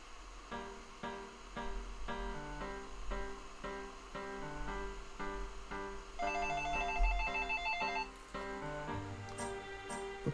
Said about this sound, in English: Looks like I got a phone call coming in.